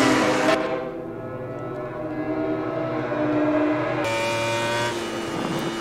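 MotoGP racing motorcycle engine at full throttle during the 2019 Misano race in a video game, a loud sustained high-revving drone with shifting pitch and a sudden gear change, close and continuous with no talk.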